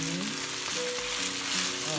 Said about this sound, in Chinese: 煎中火差不多煎了四分钟